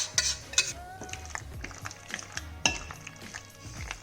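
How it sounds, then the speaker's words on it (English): Cheesy sauce is stirred into pasta for homemade mac and cheese, with wet squelching and a spoon clinking against the pot in an irregular rhythm. Close and moderately loud. "And Now we take the mixture and add it to the and pasta. roll that cheesy goodness into The pasta."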